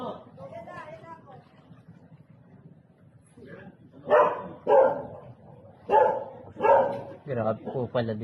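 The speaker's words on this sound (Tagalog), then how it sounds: "Aso, tita, aso." A dog barks several times during a flood rescue operation, loud sharp barks in the second half following quieter mixed voices and movement.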